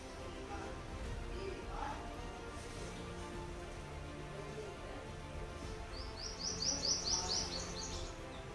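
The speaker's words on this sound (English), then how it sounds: "sparrows really enjoy taking a bath, taking a dip in this water bowl" House sparrows chirp while bathing in a water bowl at a house entrance, scattered short calls early on and then a rapid burst of bright repeated chirps near the end over a low background murmur.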